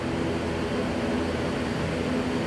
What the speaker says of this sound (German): Archie überprüft nochmal die Instrumente, bevor das Flugzeug auf die Startbahn steuert.